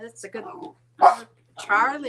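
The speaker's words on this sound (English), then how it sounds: "What are you growling at?" A dog barks in short bursts, with the barks mixed in among a nearby person talking over it.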